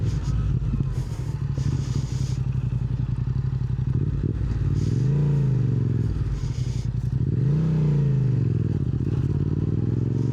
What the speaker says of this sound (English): Let's go do some burnouts on the grass.